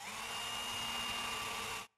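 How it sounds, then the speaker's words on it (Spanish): A power drill bores through a wooden batten while a nailed wood floor is being installed, one steady whining run lasting nearly two seconds before stopping abruptly, close and loud. "Taladra otros puntos de fijación cada 50 o 70 centímetros."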